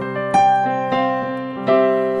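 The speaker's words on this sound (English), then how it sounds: "very fast access to special single sounds like this piano" Three piano notes from a Yamaha S90ES synthesizer struck in succession, each ringing and slowly decaying, played alone without accompaniment.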